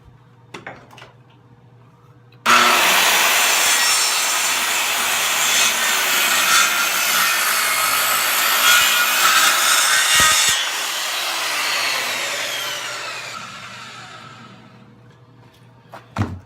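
A handsaw cuts through timber to finish a 3-inch tenon on a timber frame brace, a loud, continuous rasping stroke sound close by for about ten seconds that tapers off at the end.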